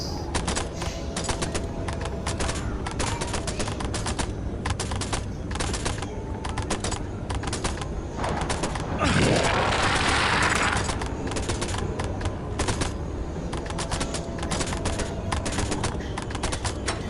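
Rapid bursts of gunfire in a spider monster horror video game, dense crackling volleys that run almost nonstop, with a louder whooshing swell midway.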